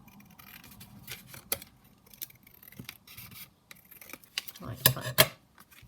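Scissors cut fabric in a quilting and sewing session, heard as quiet, scattered snips and rustles that sharpen into a few crisp cuts near the end.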